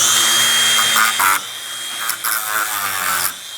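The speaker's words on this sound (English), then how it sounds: "all we got to do is get a grinder" An angle grinder fitted with a metal blade cuts through nails in a wall, giving a loud, close, high whine in short bursts with brief pauses between them.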